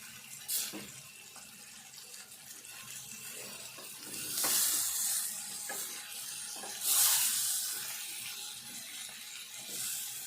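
Boiled eggs are stirred into a simmering green chilli egg curry, giving soft wet stirring and faint sizzle with a few louder scrapes of the spoon against the pan.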